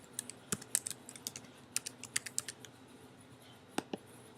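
A username and password are typed on a computer keyboard in a quick run of soft, close key taps, followed by a pause and a couple of final presses. The taps are quiet and nobody speaks.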